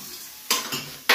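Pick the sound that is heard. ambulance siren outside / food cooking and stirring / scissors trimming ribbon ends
food cooking and stirring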